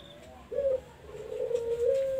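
A spotted dove, kept by a breeder, gives a soft low cooing call that rises in and holds steady through most of the clip, fairly close against faint background noise.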